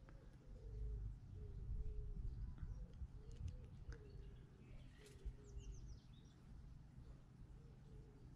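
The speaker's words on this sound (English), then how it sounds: "that was a pigeon" Soft, low pigeon cooing repeats in gentle rounds over a quiet background hum, with a few faint chirps from other birds.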